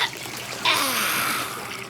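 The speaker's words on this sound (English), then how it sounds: "He splished and he splashed as Blue helped scrub all the mud off little Ooglabugla." Bath water for a child sloshes and splashes in a bubbly bath, with a short, bright splash burst followed by trickling water, close and alone.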